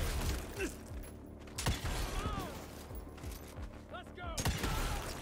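Rapid gunfire and mechanical weapon sounds from the video game Evil West, with repeated shots and clanks in a busy game mix, under a backdrop of game effects.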